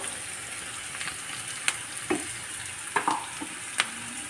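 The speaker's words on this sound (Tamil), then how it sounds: "இதை நல்லா வதக்கிடுவோம் எண்ணெயிலேயே" Coarsely ground lentils fry in oil in a pan with a steady sizzle. A few sharp scrapes and taps from a stirring spoon sound close by, and no one speaks.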